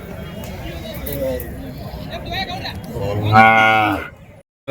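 A cow lets out a long, loud moo close by at a large cattle market, rising above a busy background of people chatting and murmuring.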